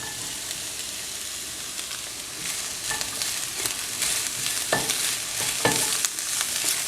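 Cabbage frying in a pan for street-style vegetable spaghetti gives a steady, close hiss of sizzling, with occasional scraping taps from stirring and no voices.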